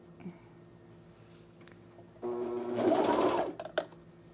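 A sewing machine stitches a jumpsuit seam in one short loud run of rapid needle chatter, after quiet handling sounds and a brief click.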